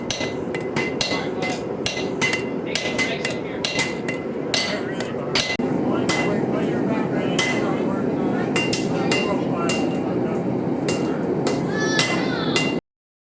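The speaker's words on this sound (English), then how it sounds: "So behind me you have boys forging" Hammers strike metal on anvils in a forging session, a dense run of sharp ringing clinks and bangs over a busy background of talk and activity, loud and close.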